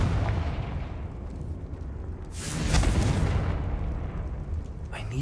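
In the video game Hogwarts Legacy, a Confringo blasting spell goes off as a single loud, broadband explosive burst with a short roaring tail over steady low game ambience.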